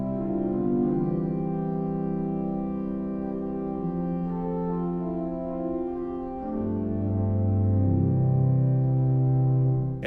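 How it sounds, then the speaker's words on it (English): Sustained chords from the 8-foot chorus in the choir division of a 1992 Reuter pipe organ, played alone in a large church. The chords hold steady, then shift to a fuller, louder chord about two-thirds of the way through. "chorus sounds like this."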